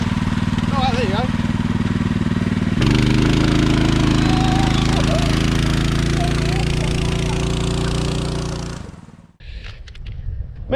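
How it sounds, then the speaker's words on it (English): A mini bike engine runs loud and close with a rapid chattering putter, shifts to a steadier rough idle partway through, then cuts off near the end, leaving brief handling noises. "Me and Steve bought mini bikes"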